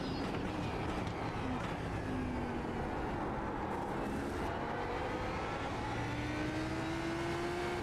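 A Lamborghini GT3 race car in the iRacing sim drones on continuously at a loud, sustained pitch, with engine tones rising and sliding as it accelerates through the gears.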